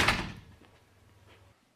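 A single solid door thud sounds close by as a door shuts in a flat, followed by near silence.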